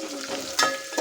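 Finely chopped onion sizzles in hot oil for vegetable pulao, a short burst of close frying hiss with a sharper crackle midway and another at the end.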